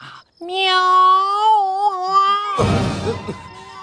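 A cat lets out a long, drawn-out yowl, loud and close, which wavers and breaks into a rougher cry near its end.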